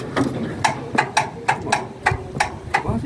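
Rapid, evenly spaced mechanical clicks from the starter of a circa 1956–1957 David Brown tractor, about eight in three seconds, close by, with low engine rumble underneath and no talking.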